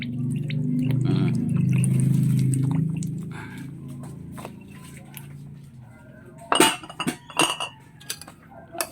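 Beef kinilaw made with bile and vinegar is mixed in a bowl. First comes a soft, low stirring and squelching, then a run of sharp clinks of a utensil against the bowl, with faint voices in the background.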